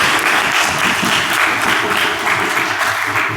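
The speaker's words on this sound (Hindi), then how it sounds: "ताली बजाओ।" A lecture audience at a university moral and value education session claps loudly and continuously, a dense, even wash of many hands close by with faint voices underneath.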